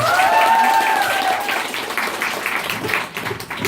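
Lively applause from an audience at a live band concert, loud and continuous, with a brief whistle-like tone early on before the clapping trails slightly.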